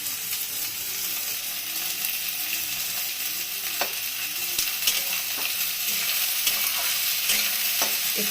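Spices and cashews fry in hot oil for egg curry, a steady loud sizzle running throughout with repeated scraping stirs of a spatula against the pan.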